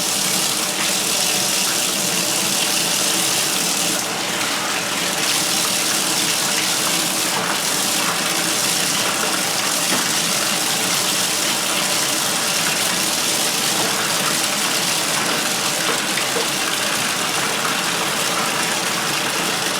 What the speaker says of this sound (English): I'm going to take and fill the tub up again in a little bit and do a second rinse